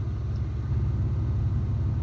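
Steady, close idle of a 1998 Chevrolet C1500 pickup with a 4.3L V6 and a Flowmaster Super 10 muffler feeding dual tailpipes: a continuous low rumble with an even, throbbing pulse and no talk over it.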